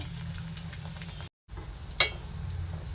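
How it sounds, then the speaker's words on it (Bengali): Chhana balls fry in hot oil for a sweet, giving a steady low sizzle with a brief silent gap and one sharp metallic clink near the end. "এপিট ওপিট উল্টিয়ে ভালোভাবে ভেজে নেব।"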